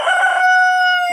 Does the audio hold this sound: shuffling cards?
no